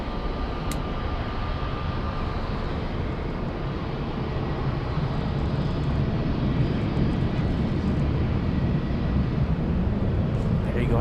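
A Lufthansa airliner at LAX airport, heard as a steady, loud, broad engine roar that holds evenly from start to finish with a faint tonal whine.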